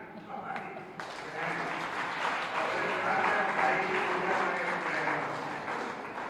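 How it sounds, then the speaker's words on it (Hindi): An audience at a Hindi poetry recital applauds steadily, a dense wash of clapping that builds after a moment and carries on throughout. "जोरदार तालियां"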